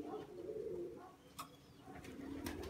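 Sick pigeon with a wheezing, raspy breath, heard close up as soft low cooing and rattly sounds that run steadily, broken by a few brief sharp clicks. A faint voice murmurs in the background.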